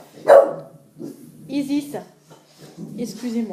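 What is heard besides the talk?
dog barking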